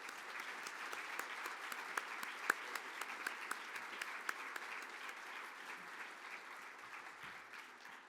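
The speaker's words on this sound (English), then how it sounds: "Let's give a round of applause to the people who helped put this thing together." Steady applause from a conference audience at a plenary session, a dense wash of many hands clapping at moderate distance with a few sharper individual claps standing out, holding evenly and tapering slightly toward the end.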